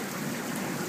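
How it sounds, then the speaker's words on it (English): Heavy rain pours onto a street during stormy weather, a steady, dense wash of noise with no breaks, close and moderately loud throughout. "But the rain has been coming down."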